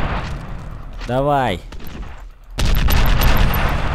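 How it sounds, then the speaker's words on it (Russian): Gunfire in the shooter game F.E.A.R. Extraction Point, a dense burst of loud shots after a brief spoken word and a sweeping tonal effect, with reverberant rumble filling the final second. "Сейчас пару раз стрельбанем."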